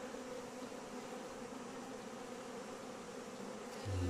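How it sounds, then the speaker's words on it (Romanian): Honeybees buzz in a steady, continuous drone around their hives during an acacia honey harvest, faint and with no voices, and a low thump comes near the end. "A început să zboare albina."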